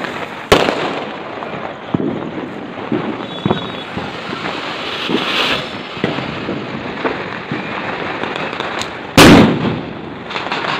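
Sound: Diwali fireworks and firecrackers bursting

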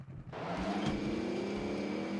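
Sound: car engine in video game

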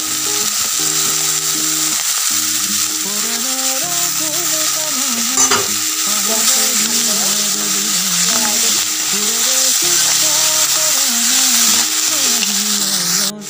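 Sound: spinach stalks frying in a pan

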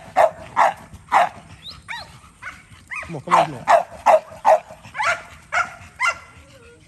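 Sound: dogs barking

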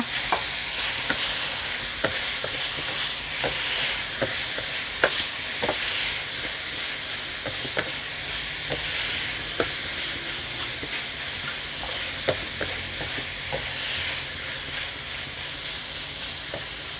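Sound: stir-frying bamboo shoots in a pan

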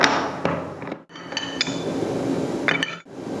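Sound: wrenches tightening quick-release coupling on drill motor spindle

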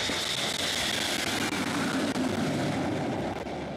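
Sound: Indian Air Force Mirage 2000 fighter jet landing on expressway

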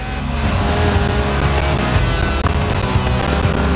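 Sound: Lotus Elise car driving in Forza Horizon 4 video game

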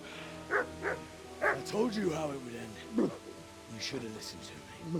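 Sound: dog barking in video game Kingdom Come Deliverance

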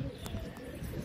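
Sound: pigeons landing and cooing

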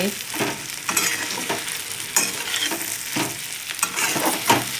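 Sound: stuffed okra sautéing in a pan

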